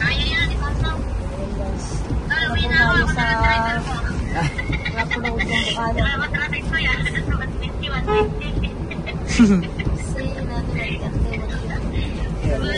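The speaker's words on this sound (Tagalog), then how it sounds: "Busina. Pup, pup, pup, pup, pup, Basta pup." Vehicle horns toot several times amid busy street traffic, with people talking over the noise throughout.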